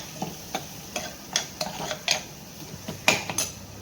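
Ground turmeric and coriander-cumin powder stirred into hot oil in a pan, heard as a series of sharp spoon scrapes and metallic clinks spaced about half a second apart over a faint background sizzle.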